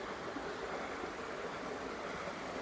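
Steady, continuous rush of stream water flowing through Finnich Glen, a mossy gorge in Scotland, a broadband wash held at an even level throughout, with no voices over it.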